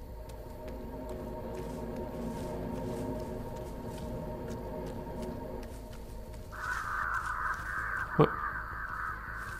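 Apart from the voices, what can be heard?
crows cawing in the video game Dead by Daylight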